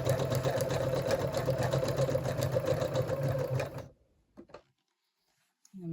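Sewing machine stitching around an appliqué letter, a fast, steady mechanical whir with a rhythmic needle beat that runs for about four seconds, then stops, leaving a few faint clicks.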